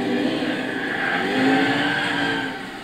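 A Ford Mustang SVT Shelby GT500 with a supercharged 5.8-litre V8 and manual gearbox snarls through a tail-sliding moment at Interlagos in Gran Turismo 6, engine droning loudly and rising then easing, with faint tire squeal.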